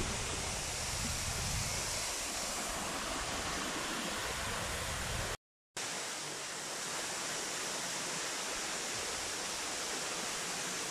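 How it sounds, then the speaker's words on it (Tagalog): Al Hada waterfall pouring in a steady, dense roar of falling water, loud and close throughout, with only a brief dropout near the middle. "Ayan po yung waterfalls."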